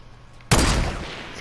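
A single loud, sharp sniper rifle shot in the Fortnite video game cracks out of a quiet background and then trails off in a fading echo.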